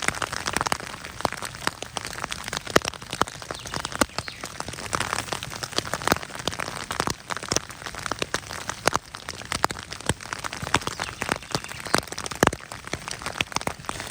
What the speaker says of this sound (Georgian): იმედია წვიმა მალე გადაიღოს